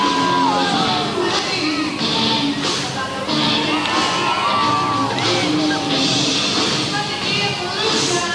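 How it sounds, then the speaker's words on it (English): Crowd noise at a Savannah Bananas versus Party Animals baseball game in Akron, Ohio, with loud cheering, yelling and whoops filling the whole stretch and voices talking over it. Rhythmic team clapping is not clearly separated from the din. "with the rest of his teammates all clapping in unison behind him"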